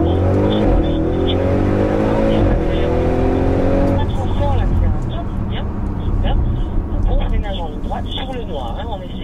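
An Audi RS6 Performance drives on the Spa-Francorchamps circuit, heard from on board as a loud, sustained engine drone that climbs in pitch through the gears, then shifts down and settles into a rougher rumble.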